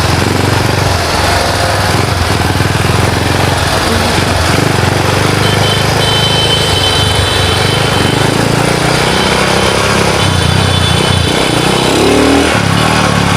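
Rusi Gamma 200 motorcycle engine while riding in rain, a loud continuous buzzing drone with shifting revs and wind rush, close and steady throughout with no talk.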